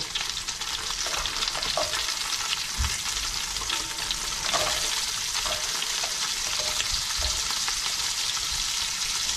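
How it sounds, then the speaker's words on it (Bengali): Garlic and carrots frying in a pan sizzle steadily for the whole stretch, with a constant hiss broken by occasional stirring clatters and scrapes. No one speaks. "আমি গার্লিকটা দিয়ে দিব জাস্ট একটু ফ্রাই করার জন্য, সাথে গাজর দিয়ে দিব"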